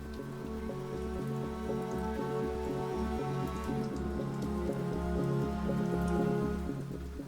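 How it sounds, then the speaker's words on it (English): Heavy rain pours down in a dense, steady wash on surfaces, with a low rumbling undertone and no voices. "Outside, the rain has been coming down in sheets, has done for days"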